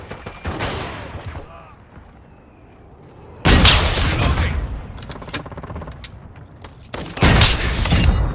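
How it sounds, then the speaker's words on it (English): Mortar strike explosions and gunfire in Call of Duty, heavy booming blasts arriving in two loud bursts with rattling shots between, following a quieter stretch where a voice speaks. "Friendly mortar strike on the way."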